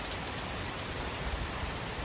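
Steady rain falls outside a new factory building on a rainy day, a dense, even hiss of drops that holds at constant loudness throughout with no voices.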